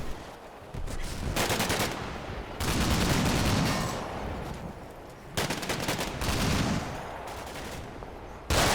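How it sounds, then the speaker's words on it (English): Bursts of RPG fire and gunfire crackle in a Combat Mission: Black Sea battle against a BTR, with sharp repeated volleys separated by short lulls at moderate volume. "Even more RPG action."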